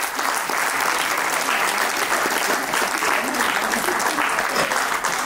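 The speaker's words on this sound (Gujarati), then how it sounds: "પણ એકવાર જોરદાર તાળી અભિષેક ગલસર માટે" Loud, continuous applause from an audience at a short film awards event, many hands clapping densely and evenly for several seconds, with faint voices beneath.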